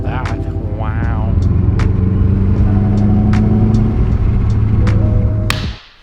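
A Subaru STI engine revs loudly and close, with a rising rev then sustained high engine drone, cutting off abruptly at the end.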